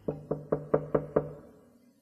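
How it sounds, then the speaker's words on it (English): Six soft, evenly spaced knocks on a door, close and muted, each with a short hollow ring that fades after the last rap, with no voices. "he stopped and knocked quietly"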